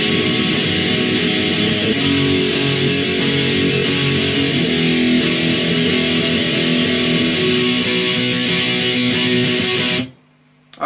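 Distorted electric guitar plays the outro of a song, a dense, loud, continuous wall of chords over a backing track with drums, cutting off abruptly near the end.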